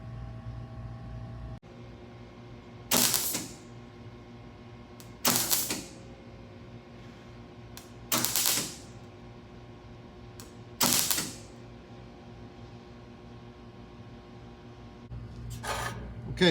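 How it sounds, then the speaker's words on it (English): Spot welds tacking a sheet metal panel onto the rear deck body of a #84 NASCAR Winston Cup Buick, four short crackling bursts spaced a few seconds apart over a steady background hum, with no talking. "So I'm gonna go ahead and spot weld this in here now, just tack it."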